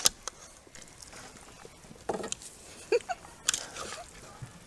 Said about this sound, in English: I'm gonna try and stir this up. Stir carefully.